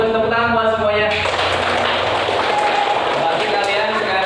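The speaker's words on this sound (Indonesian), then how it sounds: "tepuk tangan buat semuanya" A class of children claps together in a classroom, a dense, steady burst of many hands that rises out of brief voices and keeps going loudly.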